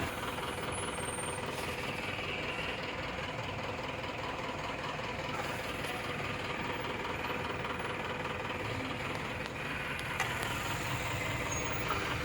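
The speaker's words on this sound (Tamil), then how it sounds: "ஃபுல்லாக டிராஃபிக் ஹெவியாக இருக்குது" Heavy late-night traffic at about 2 a.m. on the Bangalore–Salem national highway near Dharmapuri, with trucks idling and engines knocking. It makes a constant, dense mechanical drone with a faint rattling texture that holds steady the whole time.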